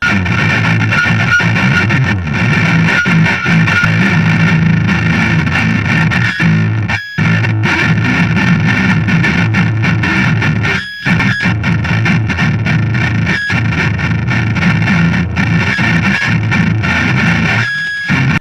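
Distorted electric guitar churning through low, heavy notes, loud and continuous with a few brief gaps between phrases.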